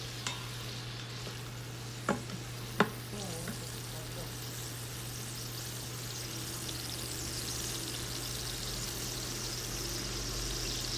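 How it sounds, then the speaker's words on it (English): Chili being stirred in an Instant Pot, with a steady soft scraping and bubbling texture, a couple of sharp spoon clinks early on, and a constant low electrical hum underneath. "So you're still mixing it."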